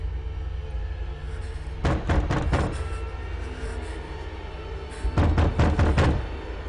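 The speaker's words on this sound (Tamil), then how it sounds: "நீ ஏன் கதவு தட்டுற?" Knocking on a door in a Tamil horror drama scene: two quick bursts of four or five sharp knocks each, close and fairly loud over a low steady background hum.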